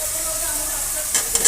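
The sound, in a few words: spice paste sizzling in oil in pan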